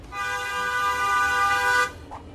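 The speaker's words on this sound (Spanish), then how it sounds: "el claxon de un coche tiene unos 90 decibelios" A car horn blasts one steady, loud honk that lasts nearly two seconds and then cuts off sharply, leaving quiet background noise.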